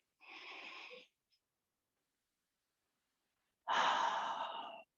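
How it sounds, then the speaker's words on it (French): Two long, deep breaths during a gentle exercise session, each a soft airy exhale of about a second, separated by a pause of silence, close and fairly quiet. "Des grandes respirations avec."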